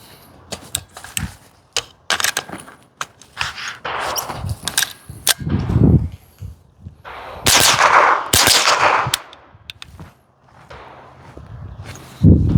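Rapid bursts of gunfire from a CMMG AR .22 LR pistol run on a binary trigger, sharp cracks falling in quick pairs and short strings with brief pauses between, loud and close, with no talking.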